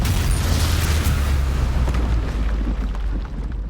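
The Confringo blasting spell detonates in Hogwarts Legacy as a loud, deep, rumbling explosion. It booms heavily at first, then rolls on as a sustained roar that fades slightly toward the end, with no voices over it.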